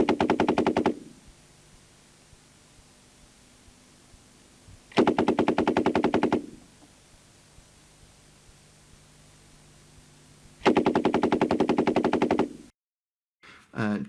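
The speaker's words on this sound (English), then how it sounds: "The SG-43 is the standard Soviet battalion level machine gun." Soviet SGM machine gun fires three long bursts of rapid, evenly spaced shots, loud and close, with quiet gaps of low hiss between them.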